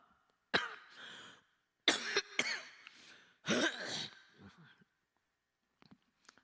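A person preaching a church sermon coughs in several harsh bursts, close and loud, with short pauses between fits and quiet breaths trailing off at the end.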